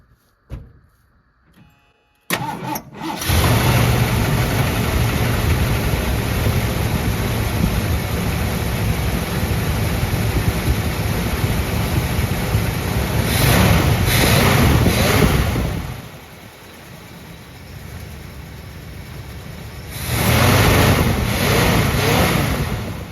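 A 1979 Ford F-150 SuperCab's engine cranks over and catches, then settles into a loud, steady running drone close by, with two stretches of surging revs and a brief dip in the middle.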